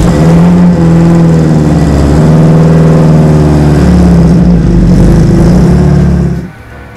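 AC Cobra engine running loud and steady as the car pulls away, a throaty rumble holding for about six seconds before dropping off sharply at the end.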